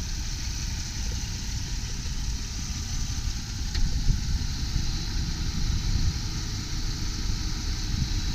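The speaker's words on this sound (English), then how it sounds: "Motor's running nice and smooth." A 2001 Jeep Grand Cherokee Laredo with a 4.0L inline-six idles smoothly under an open hood, a steady low rumble with an even, unbroken rhythm and no talk.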